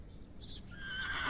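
A horse in the video game The Excavation of Hob's Barrow gives a brief, faint whinny that rises to a high, wavering cry, heard alone over quiet ambience.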